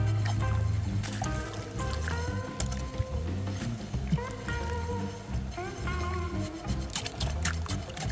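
Wet concrete around an in-ground flagpole sleeve being stirred and poked with a stick, a steady run of squelching, sloshing pokes heard close and alone.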